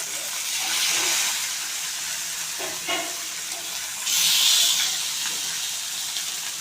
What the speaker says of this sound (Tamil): பூண்டு தட்டி போட்டு வறுத்த நல்லா வாசனை